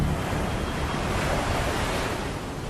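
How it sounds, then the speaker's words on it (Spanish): Water in a whirlpool roars and crashes on rocks in a strait, a dense, steady, loud rush with no pauses throughout. "Vimos como el agua giraba y giraba sin cesar, haciendo un ruido atronador al romper en las rocas"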